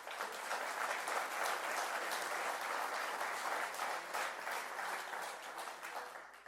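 Sustained applause fills a presentation hall as the crowd claps for a list of team members, a steady wash of many hands at moderate distance, even and unbroken for several seconds with no voices on top.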